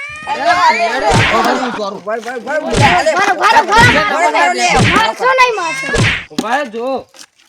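A man in a Gujarati comedy scene imitates a cat with loud, close, wavering meows and yowls, several drawn-out cries in a row with brief gaps between them.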